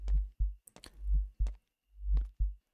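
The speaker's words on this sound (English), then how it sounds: "I can hear my heartbeat." Heavy, muffled heartbeat thumps in the horror video game Motel Horror Simulator, arriving in close double beats with a slow, steady rhythm, loud and low, with faint clicks between them.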